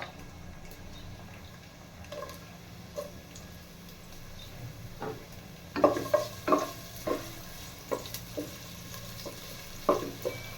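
Onions fry softly in a pan for a vegetable dish, a low steady sizzle broken by scattered ticks and scraping stirs that grow busier in the second half.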